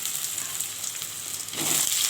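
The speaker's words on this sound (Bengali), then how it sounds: "রিফাইন তেলে আমি আগে এই আলুটা ভেজে নিই।" Potato pieces fry in refined oil in a wok, oil already used for frying pointed gourd, making a steady close hiss that swells into a brighter, louder sizzle near the end, with no speech.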